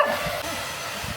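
A pet hair dryer blows a steady, close, broadband hiss over a freshly bathed dog on a rooftop terrace, running continuously with no voices.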